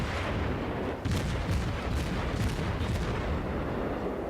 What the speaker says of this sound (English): I want to keep putting fire shots at him until I can't shoot at him no more